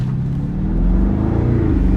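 A BMW engine drones loudly and climbs steadily in pitch as the car speeds up to about 45 mph on an autocross course, heard from close by.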